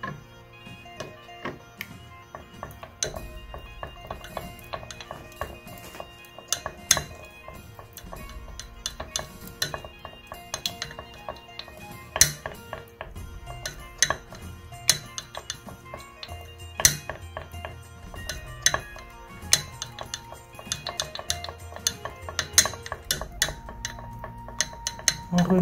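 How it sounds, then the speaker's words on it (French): A utensil stirs a salicylic acid face cleanser mixture in a bowl, producing irregular light taps and clinks against the container, close and fairly quiet throughout. "On remue jusqu'à ce que tout se mélange, comme vous pouvez le voir."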